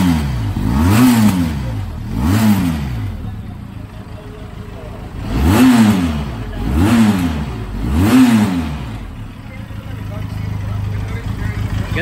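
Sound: motorcycle exhaust revving

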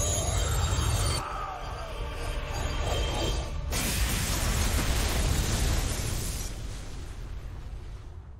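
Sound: explosion in StarCraft II Heart of the Swarm cinematic, video game

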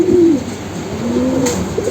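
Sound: pigeon cooing

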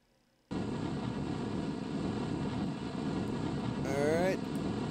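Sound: spacecraft engine thrusting in video game Kerbal Space Program

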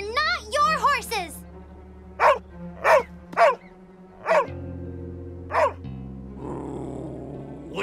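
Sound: dog growling and barking, cartoon

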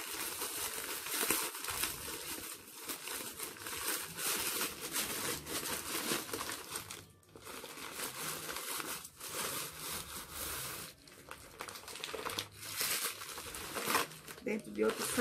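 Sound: plastic bags crinkling while unwrapping a package

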